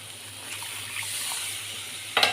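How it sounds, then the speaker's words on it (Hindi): Water being poured into a pan of cooking tomatoes for a Sambalpuri bari curry, a steady hissing, sizzling wash that runs close and continuous, then ends with a sharp louder splash. "एछन आमे फ्रेंड टिके पानी डालमा।"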